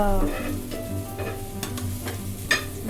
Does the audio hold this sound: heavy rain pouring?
no